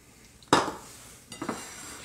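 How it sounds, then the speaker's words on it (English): Cutlery cuts into a steak and cheese omelet on a plate, giving two short scrapes and clinks with a pause between, close and fairly quiet. "So we'll cut into this and let you see."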